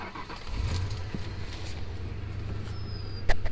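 Keys jangle and a car engine cranks and catches after a spark plug repair, settling into a low steady idle nearby, with a sharp click near the end and no talk.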